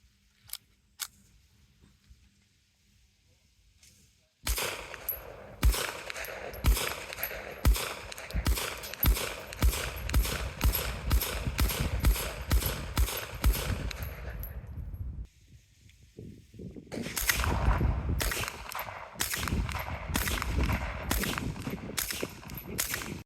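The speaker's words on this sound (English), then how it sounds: "Let me take it to range and put a few rounds to it for you." A .380 ACP Thompson-style submachine gun fires at a shooting range, a few single shots and then long, rapid automatic strings of loud, close, sharp reports. A short pause breaks them before another string, with no talking.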